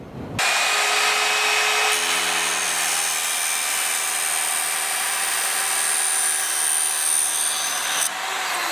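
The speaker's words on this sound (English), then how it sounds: "It's a good idea to invest in a chop saw and then swap out the blade so it's one that just grinds through the shaft" Chop saw fitted with a grinding blade cutting through a SUP paddle shaft, a loud, steady abrasive whine that runs almost the whole time with no talking.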